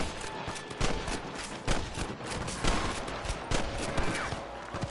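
Rapid volleys of gunfire from a Red Dead Redemption shootout, loud and near, with dense overlapping shots and bursts running throughout.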